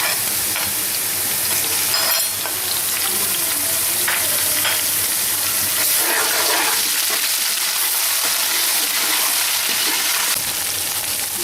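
Ginger garlic paste sizzling in a pan with lightly browned onions, a busy crackling fry with occasional stirring scrapes, close and continuous throughout.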